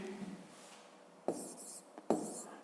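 A pen scratches out numbers by hand on paper during a fifth-grade maths exercise, with a soft continuous scrawl broken by two sharper taps or strokes, close and quiet, with no talk.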